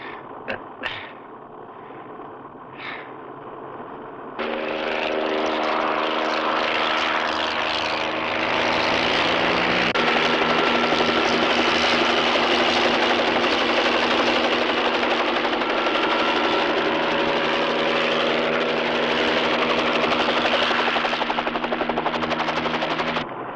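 A police helicopter's loud, continuous rotor and engine roar swells in after a few seconds and holds steady, droning on for the rest of the clip.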